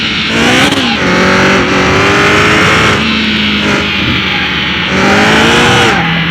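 A blacked-out 1200HP Viper or C8 Zora accelerating hard at a racetrack, its loud engine revving through repeated gear changes with rising and dropping pitch, close and continuous throughout.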